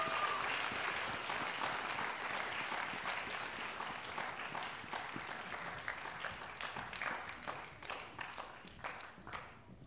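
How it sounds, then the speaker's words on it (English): A crowd at a high school stadium gives a sustained round of applause for seniors, dense clapping from many hands that stays steady and gradually thins toward the end. "Let's give our seniors another round of applause."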